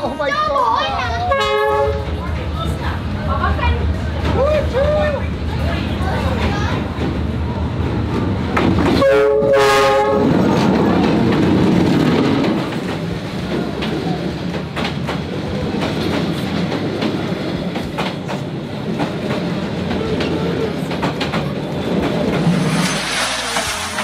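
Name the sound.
train passing through Hanoi Train Street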